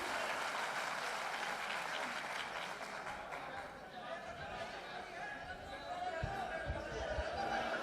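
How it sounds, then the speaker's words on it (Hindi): Audience at a mushaira poetry gathering claps in a dense, sustained burst that fills the whole stretch, loud and steady with a slight swell near the end, mixed with crowd murmur. "एक बार जोरदार तालियां बजाएं"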